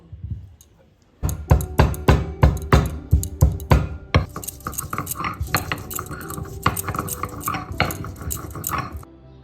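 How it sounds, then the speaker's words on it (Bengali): Fresh ginger is ground by hand on a flat stone grinding slab, a dense run of close, rhythmic knocks and scrapes after a brief quiet start, continuing almost unbroken to the end. "এখন আদাটা বেটে নেব আমার বাটার একটা পাটা আছে"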